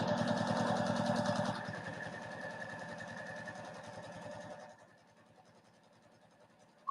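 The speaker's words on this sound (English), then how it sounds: "And I'm sewing this with a 1/4 inch seam allowance." A sewing machine stitches a bag seam at a 1/4 inch allowance, a fast even needle chatter with motor hum that slows and grows quieter partway through, then stops.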